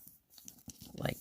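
Origami paper pinched flat and folded, with brief soft crinkles and crisp paper rustles building to a louder crackle at the end, close and quiet, with speech present.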